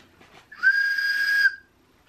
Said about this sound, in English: It's a little wooden train whistle. You want to try blowing it?